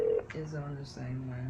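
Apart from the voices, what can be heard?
telephone dialing tones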